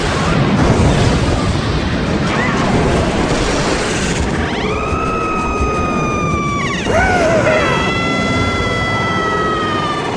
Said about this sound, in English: We've destroyed it! It's detonated! The train is no more!